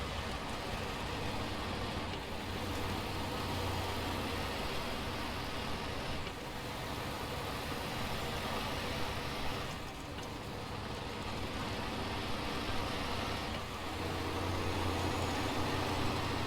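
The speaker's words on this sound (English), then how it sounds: "Arctos has a quite quiet engine-wise compared to, like, for example, the Ankh we were in just a wee while ago." The Arctos truck drives over rocky Scandinavian terrain in the video game SnowRunner, its fairly quiet engine a steady, continuous drone with slight surges in level.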